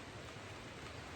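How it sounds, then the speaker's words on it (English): Rain falling outside, a steady, dense broadband patter heard faintly from indoors with no talk. "If you're wondering what that funny noise is, funny enough, what we're talking about, it's raining outside."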